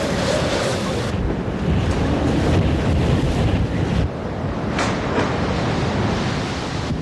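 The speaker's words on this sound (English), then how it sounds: "This howling, whistling force of nature, born somewhere out in the Atlantic Ocean weeks ago" Hurricane winds from an Atlantic storm roar down a residential street, a dense continuous howl of rushing air and gusts battering the microphone, steady and loud with no voices.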